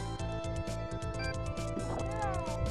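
A horse gallops in the SNES game Knights of the Round, its quick, steady hoofbeats drumming continuously beneath sustained game music tones and a brief swooping effect.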